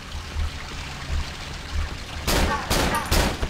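Gunfire in the horror game Cry of Fear: after a quiet low rumble, a loud burst of shots erupts in three close, sharp bursts toward the end.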